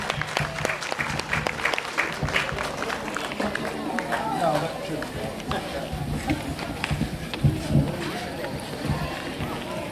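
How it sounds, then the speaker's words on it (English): A crowd applauds at an outdoor Juneteenth celebration in Lakewood, New Jersey, with steady clapping and cheering running throughout under a busy, noisy background. "Again, let's give them a round of applause."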